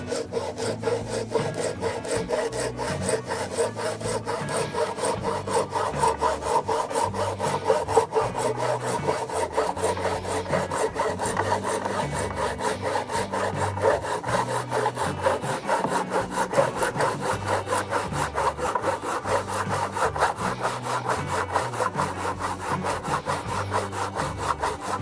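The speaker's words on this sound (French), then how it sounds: "je me sers de mon entaille comme support pour pouvoir continuer la découpe en essayant de respecter au maximum le trait que j'ai tracé" A hand saw cuts through wood along a traced line, its strokes rasping steadily and close for the whole stretch without pause or talk.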